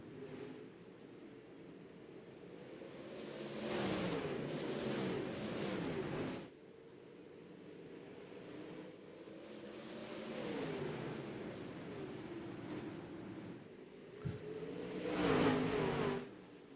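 Pro Late Model race cars accelerating off the start at I-55 Speedway, a distant pack of engines roaring up in swelling waves of revving, fading and surging again, with a louder pass near the end.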